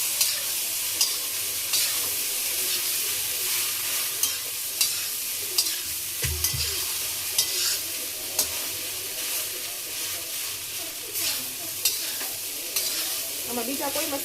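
Food frying in a pan while being stirred and mixed, a soft continuous sizzle broken by regular scrapes and knocks of the spoon against the pan, one heavier clunk partway through.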